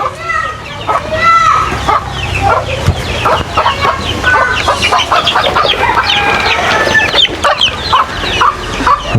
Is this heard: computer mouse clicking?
no